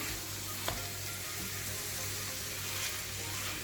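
Minced kefta meat frying in a pan over browned onions, a steady close sizzle running evenly throughout with one brief faint clink near the start.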